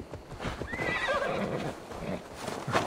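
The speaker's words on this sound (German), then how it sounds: "Mein Pferd läuft schneller als der Wolf." A horse in Assassin's Creed Valhalla gives a loud whinnying neigh over clip-clopping hooves, close and continuous for a few seconds.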